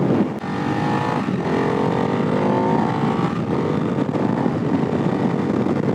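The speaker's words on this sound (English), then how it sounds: "Gear shifts are really nice and crisp, and the engine is very, very playful." A Ducati Hypermotard 698 single-cylinder motorcycle is ridden, its engine a loud continuous drone mixed with heavy wind rush, holding steady with slight pitch shifts throughout and no talking.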